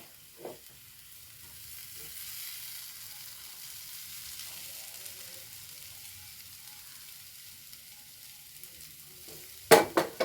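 Egg is stirred into kothu chapati frying in a pan, a soft low sizzle with faint scraping stirs throughout, ending in a few louder clatters of the utensil against the pan.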